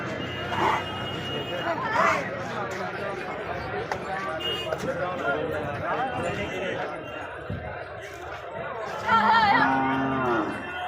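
Bulls at a village cattle market moo several times, including a longer low call near the end, while people chatter and talk over a busy outdoor background.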